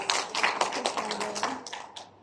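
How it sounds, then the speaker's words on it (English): Audience applause at a company training debrief session, a dense patter of many hands clapping at moderate distance that thins out and fades near the end. "You really must give yourself a big round of applause"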